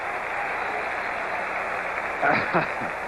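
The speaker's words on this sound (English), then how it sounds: "Franco Harris comes out to the acclaim of the crowd." A 1977 Steelers vs Cowboys stadium crowd gives a brief swell of applause as Franco Harris comes out, rising over a steady broadcast hiss, with some broadcast talk faintly present.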